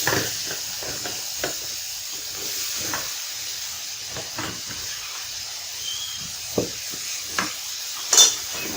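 Cut drumstick (sajna) pieces fry in hot oil for a Bengali curry, giving a steady close hiss broken by scattered scraping stirs and a few sharp crackles, with no talking.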